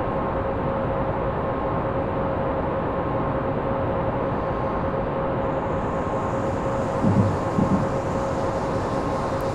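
Steady rumble of a BR 111 electric locomotive hauling a broken-down train in Train Simulator 2017, a continuous dense drone with a faint tonal whine and a brief clatter near the end.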